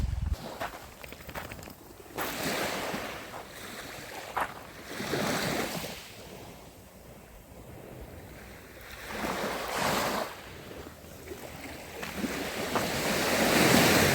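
Sea waves wash onto the shore of the Odesa embankment in winter, several surges rising and falling in a steady rhythm under gusty wind noise.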